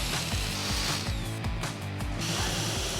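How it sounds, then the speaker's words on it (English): A power drill boring out the center of an engine part: a fast, repeating ratcheting grind with regular pulses, close and steady throughout. "So let's quickly drill this"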